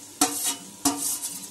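Marinated chicken hitting a hot pan of fried onion and tomato for chicken biryani, giving two sharp sizzling bursts about half a second apart, each fading into a steady crackle, loud and close with no talking.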